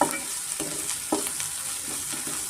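Ginger, garlic and onion fry together in a pan for pepper mushroom rice, with a constant sizzle and a few distinct scrapes of a spoon stirring the mix.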